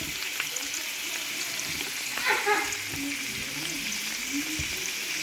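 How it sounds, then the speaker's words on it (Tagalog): Ginger and onion sautéing in a pan for a coconut-milk tuna dish give off a steady, close sizzle, with a brief louder burst of stirring near the middle. "Gisa lang natin siya ng saglit."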